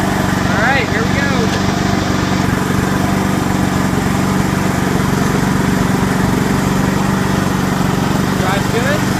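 A John Deere LX173 lawn tractor engine runs steady and loud throughout as the tractor drives, with someone talking over the engine drone.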